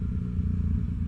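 Yamaha FJ-09 motorcycle with a Black Widow exhaust and a flashed ECU, engine rumbling loud and steady at close range with a deep, continuous low throb.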